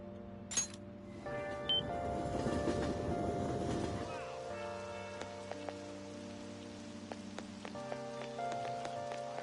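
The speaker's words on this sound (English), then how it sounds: "Rain, huh?" Rain falls in Persona 5 Royal as a steady patter of drops on surfaces, underneath sustained game music tones, with short sharp chimes and clicks breaking through afterward.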